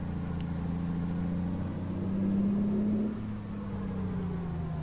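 Kenworth K200 truck in American Truck Simulator, its engine a low steady rumble that swells briefly as it pulls harder, then settles back to a smooth cruising drone.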